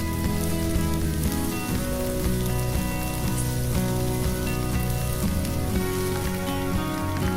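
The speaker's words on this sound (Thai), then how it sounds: "หมูสามชั้น ย่างให้กรอบ ๆลองฟังเสียงดูสิครับ" Marinated pork belly grilling until crispy on a Thai mookata barbecue at a restaurant, with a dense, continuous crackling sizzle like rain that runs unbroken throughout and has no talking.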